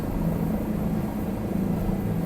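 A helicopter in Microsoft Flight Simulator 2020 produces a steady, close rotor and engine drone, continuous and unbroken throughout, with no one speaking.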